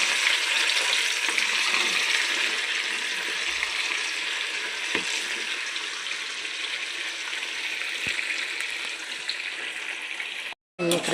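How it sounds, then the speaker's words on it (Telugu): Fish pieces frying in a pan for chapala pachadi, a steady close sizzle of hot oil that runs continuously with a few small clinks and stirs, no voice over it. "మన చేప ముక్కలన్నీ అయితే అన్నీ ఇలా ఫ్రై అయినాయి."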